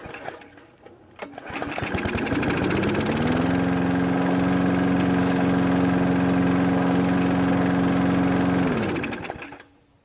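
A petrol lawn mower engine, just cleared of a carburetor fault, catches after a brief sputter and runs at a steady, loud idle for several seconds before cutting out.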